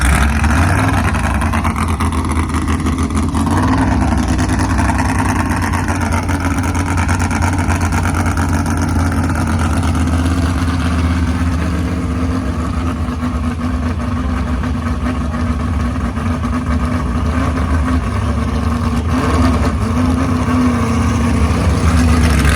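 A 1957 Chevrolet gasser drag car engine runs steadily with a deep, continuous rumble and throaty drone, loud and close, at a drag strip test and tune session with no talking.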